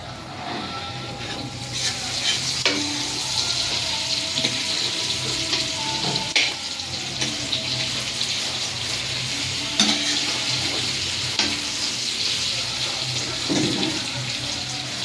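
Onions, with tomato nearby, frying in a pan on a gas flame, a steady broad sizzle that runs throughout with occasional scraping stirs and clinks, fairly close, and no one talking.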